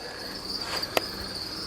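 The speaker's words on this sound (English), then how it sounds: "there's some awesome crickets up the back here" Pinhead crickets chirp in a continuous high-pitched trill, with one brief sharp tap partway through; no voices.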